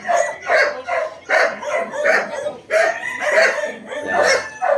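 Boston Roundhead gamefowl roosters crow repeatedly and loudly close by, overlapping calls in a steady rhythm with no pause.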